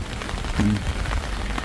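Rain pattering steadily outdoors on a vegetable garden with sweet potato plants during the rainy season, a constant close hiss of drops on leaves and soil with no voices.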